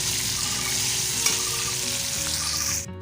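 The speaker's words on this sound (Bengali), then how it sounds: "টমেটোগুলোকে আগে দিয়ে দিচ্ছি, দিয়ে ভেজে নিলে পরে তরকারির কালারটা খুব সুন্দর আসে" Tomatoes frying and being stirred in a pan give a loud, dense, close-up sizzle that holds steady for a few seconds before cutting off abruptly.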